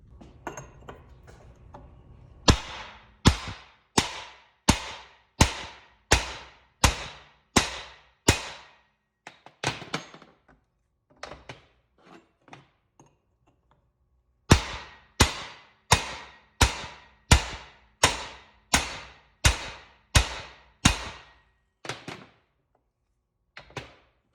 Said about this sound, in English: What I like to do is use a chisel above the weld.